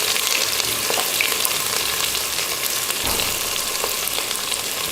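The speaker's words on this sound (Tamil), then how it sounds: "ஒரு பிரிஞ்சலை பொரிஞ்சதும் 2 பெரிய வெங்காயம் நீல வாக்கில் கட் பண்ணி வச்சுருக்கேன், அதை சேர்த்துடலாம்" Two large sliced onions fry in hot oil with cloves, star anise, cinnamon and a bay leaf, giving a dense, continuous close-up sizzle with faint crackles and occasional stirring.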